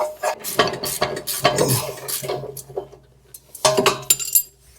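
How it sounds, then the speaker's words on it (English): A ratcheting wrench works a 15mm bolt on a 1997 Mustang Cobra's suspension, giving quick metallic clicks and clinks in short bursts with pauses between them, close and fairly loud, with no talking. "All right, got my ratcheting wrench here."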